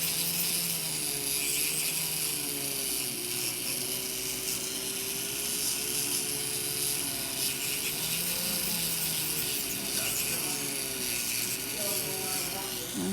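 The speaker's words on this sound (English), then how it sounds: "drill a little bit more than the norm" A high-pitched electric nail drill whirs continuously, its pitch wavering slightly as it files, steady and close throughout.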